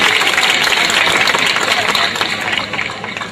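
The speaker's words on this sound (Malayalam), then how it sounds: "ഒന്ന് കൈയടിക്കും." Audience clapping at a Mappilappattu stage performance, a dense, steady wash of applause throughout, loud and close.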